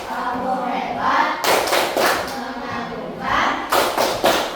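Schoolchildren in a classroom clapping a rhythmic salute clap, bursts of loud claps in two clusters under chatter and a teacher's voice.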